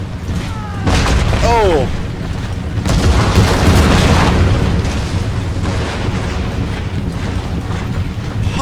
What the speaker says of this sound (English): Nice artillery hitting the wooden walls right there